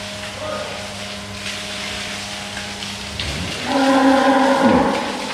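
Brahman cattle lowing in a farm pen, a drawn-out moo building and swelling loudly near the end over steady background hum, with no talk.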